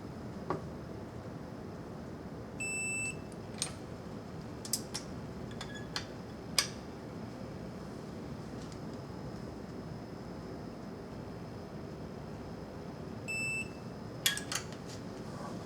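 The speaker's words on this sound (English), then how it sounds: "Takes a second for my wrench to reset." A torque wrench used while installing a cylinder head gives short electronic beeps and light ticking clicks as it resets, a few scattered chirps over a steady background hum, with no talking.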